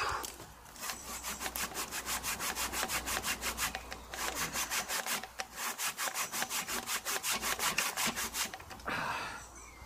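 A homemade hand chainsaw rips through wood in fast, even strokes, two long bursts of rasping cuts separated by a brief pause, close and alone with no talking.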